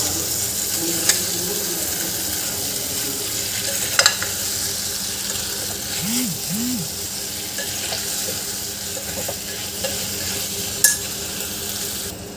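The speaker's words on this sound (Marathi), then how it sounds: "आपण हे 1 मिनिट परतून घेतले आहे वाटाणे आणि बटाटे" Green peas and potato pieces fry in a pan for a steady low sizzle, broken by a few sharp clinks and scrapes of stirring.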